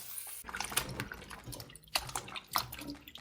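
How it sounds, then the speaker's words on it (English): Cold water runs over sliced potatoes in a bowl to wash off starch, with close splashing and sloshing in irregular bursts. "Now we start rinsing it with cold water to remove the extra starch."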